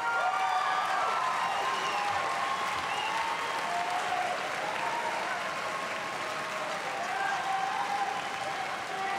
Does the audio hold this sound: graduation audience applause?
yes